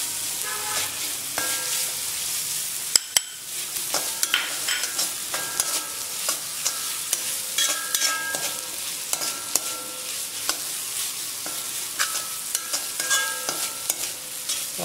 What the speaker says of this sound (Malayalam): നമുക്കതിലേക്ക് കൊത്തി വെച്ചേക്കുന്ന തേങ്ങ അങ്ങിടാം.